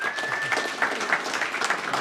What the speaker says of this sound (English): everyone deserves a round of applause for making the effort